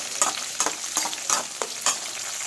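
Brinjal pieces frying in a pan for brinjal chutney, a steady sizzle with rhythmic bursts of stirring about every half second, close and fairly loud, no voices.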